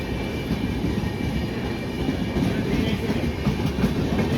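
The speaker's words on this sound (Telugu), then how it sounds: "ట్రైన్ క్రాస్ అవుతుంది. అది విశాఖపట్నం తిరుపతి ట్రైన్." A Visakhapatnam–Tirupati passenger train passing through Srikalahasti railway station, a steady loud rumble of wheels and carriages with rhythmic clickety-clack, continuous and close throughout.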